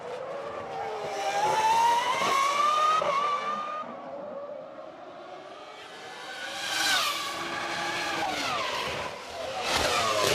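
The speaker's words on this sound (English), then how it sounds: "A great down on David Coulthard as the McLaren accelerates back" A McLaren Formula One car from the 2001 Monaco Grand Prix accelerates out of the pit lane, its high-pitched engine climbing through gears with a brief lull before revving hard again; loud and close, with no talk.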